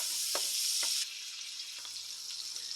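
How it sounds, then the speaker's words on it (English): Onions and garlic sizzle steadily in a hot pan, a loud, bright crackling hiss with a few stirring scrapes, easing slightly after a second, up close and with no talking. "you're going to cook the onions and the garlic until they get nice and translucent and tender"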